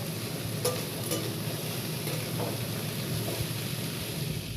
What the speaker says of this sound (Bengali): এবারে বিনস আর গাজরটা ভালো করে ভাজা হবে